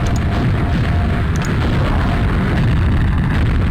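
A video game explosion, a continuous loud roaring rumble that holds steady throughout with dense low-end crackle.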